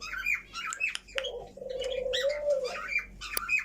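Pigeons or doves coo, with scattered chirps and squawks from other birds close by, in a busy run of overlapping calls and no talk.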